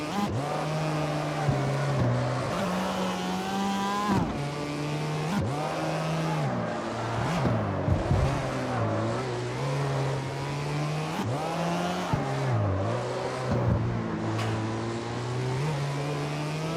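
Car engine revving in the racing game CarX Street, a steady loud motor drone with repeated throttle rises and gear-shift dips over about seventeen seconds, sounding somewhat weak and underpowered.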